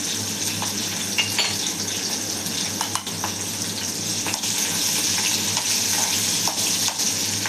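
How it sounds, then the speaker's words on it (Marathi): Chillies with cumin and mustard seeds sizzle steadily in hot oil, a continuous close frying hiss with light crackles and occasional stirring clinks. "आणि मग तेलात मिरची टाकायची. आधी मिरची साईडला ते जिरी मोहरी पण टाकून घ्यायचं."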